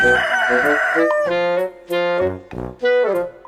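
A rooster crows loudly and close, a long drawn-out call followed by several shorter crowing bursts with brief pauses between.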